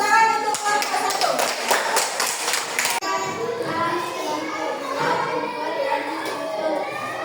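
Children in a classroom clap for a group that made pencil holders from plastic bottles, a dense burst of applause for about three seconds mixed with kids' voices, then chatter continues.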